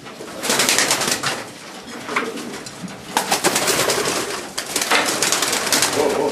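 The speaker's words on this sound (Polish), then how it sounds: "To jest też gołąb z charakterem broni gniazda." Pigeon cooing at its nest, a bird defending the nest; close, steady coos with rustling and possible wing flaps through the clip, no talk.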